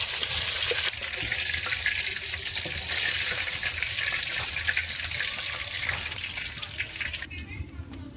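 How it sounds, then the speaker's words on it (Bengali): Meat sizzles steadily in hot oil, a dense crackling hiss that stays loud throughout and tapers off near the end. "বাকি মাংসগুলো আমি এই একইভাবে লাল লাল করে একটু ভেজে নেব"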